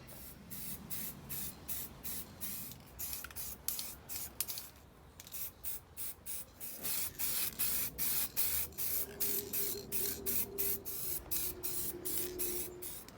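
Lacquer hisses from a spray can onto a part during a restoration, as a series of short, close sprays in quick rhythmic bursts, some briefly longer, with faint rattling in between.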